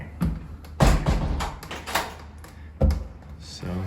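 Apartment door at 1322 Pine St Unit 1 opens with knocks, a latch click and rattling thuds close by, while people talk over the handling.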